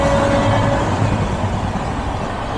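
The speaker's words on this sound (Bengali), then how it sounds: "ক্রস করছে সম্পর্কক্রান্তি, ওয়েস্ট বেঙ্গল সম্পর্কক্রান্তি।" A West Bengal Sampark Kranti Express train passes close by, a loud, steady rumble of rolling wheels and carriages with faint clattering throughout.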